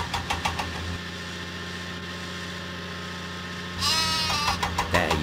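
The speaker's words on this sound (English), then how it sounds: "Thomas must deliver the sheep to Farmer McCall's farm" Sheep bleat in a Thomas & Friends video game, several short wavering cries over a steady engine-like game hum, with a louder cluster of bleats near the end.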